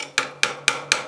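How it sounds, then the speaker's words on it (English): A tubing saw cutting through metal tubing during jewelry work, heard as four sharp, evenly spaced strokes, each a bright rasping attack that quickly fades, close and moderately loud with no talking. "And I'm going to use my tubing saw or cutter thing"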